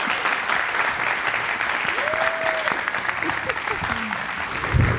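An audience at a book event gives sustained, steady applause for an arriving guest, dense clapping filling the room throughout with a brief voice heard over it.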